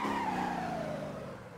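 Tires squeal in a long sliding skid as a car drifts in third gear in the Motor Town driving game, one sustained near screech that slowly fades, no talk.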